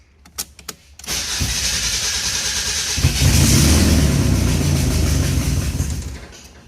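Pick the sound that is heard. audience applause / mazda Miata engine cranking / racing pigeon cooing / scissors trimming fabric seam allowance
mazda Miata engine cranking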